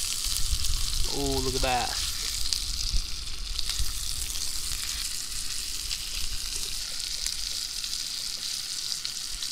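Steak sizzles steadily in a pan while cooking on the ice during a winter fishing trip, a constant frying hiss under a brief exclamation from a man.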